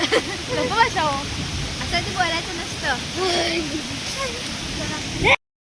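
Heavy rain pours down with rushing water in a steady, close hiss, while people talk over it; the sound cuts off abruptly near the end.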